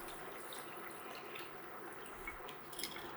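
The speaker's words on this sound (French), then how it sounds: "on va venir ajouter notre bouillon à égalité des légumes" Broth pouring into a pot of buttered carrots and vegetables, a steady soft liquid splash with faint trickles, quiet and close.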